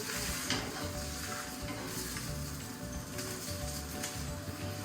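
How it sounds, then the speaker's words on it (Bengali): Water heating on a hot tawa griddle sizzles and hisses steadily at close range, a soft continuous frying crackle with no talk. "ও তাওয়ার মধ্যে জল দিয়ে একটুখানি দিয়ে জলটাকে গরম করছে"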